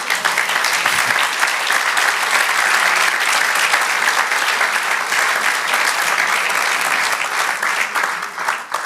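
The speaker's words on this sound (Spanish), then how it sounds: "Dale un aplauso al Señor." A church congregation breaks into sustained, loud applause, many hands clapping in a thick continuous wash that holds steady throughout and thins slightly at the very end.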